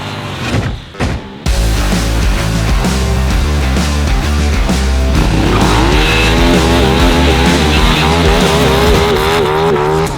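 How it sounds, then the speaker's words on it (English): A motorcycle performing a stoppie, loud engine revving with shifting pitch after a brief quiet start, steady and close throughout. "Next trick, the stoppie."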